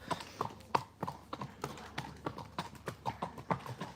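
Horse hooves clip-clop in a steady walking rhythm on a hard village road in Cartmel, the Friesian horses' crisp, close footfalls repeating about twice a second with faint background noise.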